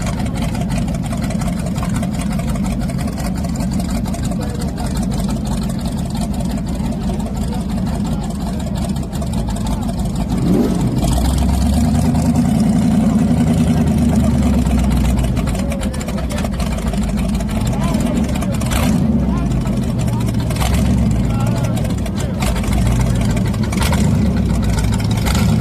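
A race car engine idles and runs with a loud, rumbling low drone at a grudge race, swelling briefly mid-way before settling back, with faint voices in the background.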